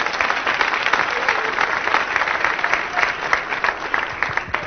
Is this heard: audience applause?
yes